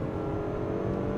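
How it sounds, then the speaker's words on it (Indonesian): A car accelerates hard in sport response mode, giving a brief, steady engine drone heard from inside the cabin. "langsung akselerasi maksimum yang diberikan oleh mobil ini"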